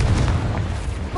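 The Confringo fire-blast spell explodes in the Hogwarts Legacy video game as a deep, loud boom with a rumbling low tail that fills the short moment.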